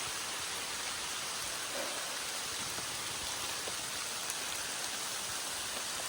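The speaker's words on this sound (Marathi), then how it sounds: "पाऊस पडतोय पूर्ण, खूप पाऊस पडतो इथे." Heavy monsoon rain pours steadily on a road through Tamhini Ghat above the Kundalika Valley, a dense, even wash of noise with no breaks and no talk across the whole stretch.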